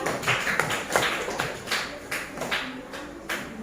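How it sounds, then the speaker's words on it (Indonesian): A group of people claps together in uneven bursts of hand claps, fairly close and moderately loud, with gaps between waves of clapping. "Kelompok Nusantara dapat 1 bintang. Beri tepuk tangan."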